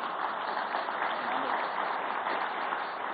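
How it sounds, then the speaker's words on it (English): Conference audience applauding at a finance event, an even, sustained sheet of clapping from a crowd with no break, heard as a muffled band-limited roar. "A round of applause."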